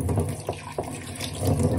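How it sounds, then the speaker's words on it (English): Cold tap water runs steadily over fennel in a kitchen sink, a continuous splashing rush with small shifts as the bulb is turned under the stream, close and fairly loud with no talking. "wash it thoroughly under cold water so until you see that it's very clean"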